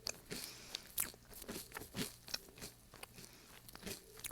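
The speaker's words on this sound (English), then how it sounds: "here we have it, our churros, 2 ways. Let's do a taste test." Crisp vegan churros bitten and chewed close up, a string of sharp crunches and crackles in an irregular rhythm, quiet overall with no talking.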